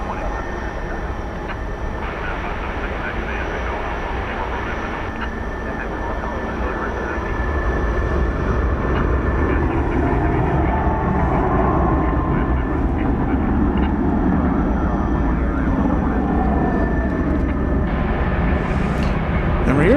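An Airbus A300 departs DFW Airport at night, its broad, steady roar swelling partway through and holding loud, with voices talking over it.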